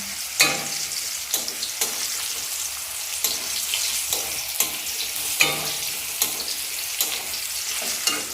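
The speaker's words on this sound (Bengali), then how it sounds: "কাঁকড়েল ভাজাটা আমার একদম লাল লাল সুন্দরভাবে ভাজা হয়ে গেছে" Teasel gourd (kankrol) frying in a pan, a close, constant sizzle broken by regular scraping stirs about every second.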